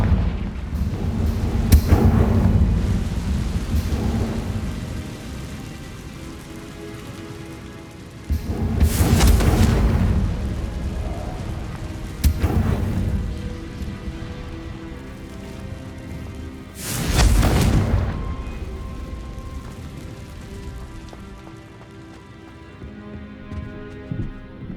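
Deep booming blasts from the Confringo spell in the Hogwarts Legacy video game, three or four heavy rumbling explosions spaced several seconds apart over a steady low ambient roar.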